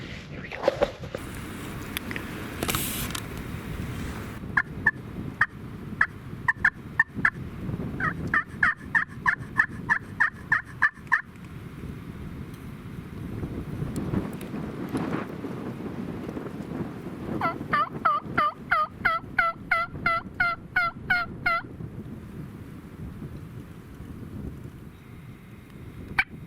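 Merriam's wild turkeys gobble and call outdoors in Nebraska in repeated rapid bursts, some close and loud, with breezy wind noise between the runs of calls.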